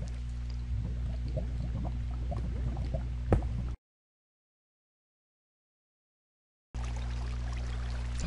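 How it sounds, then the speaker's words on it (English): Water splashes and trickles in a burst as an Enderman lands in water in the game Roguecraft, then a stretch of silence, then more watery splashing resumes. "It sounded like he landed in the water and teleported out."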